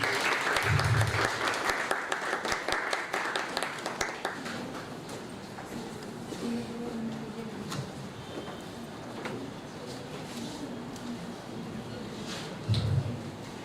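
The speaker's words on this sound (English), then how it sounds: "Can we have a round of applause for them?" A conference audience applauds panelists taking the dais at a pedestrian-spaces event: dense clapping starts loud, eases into a steady moderate patter for several seconds, then tails off, with a couple of soft low thumps from a microphone.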